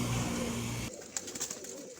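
Long-flying pigeons in a pigeon-keeper's loft at Shehr Farid coo with a low, steady tone for just under a second, then fall quiet, leaving faint background noise and a few soft taps at low volume.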